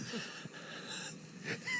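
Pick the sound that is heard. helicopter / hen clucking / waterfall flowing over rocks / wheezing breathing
wheezing breathing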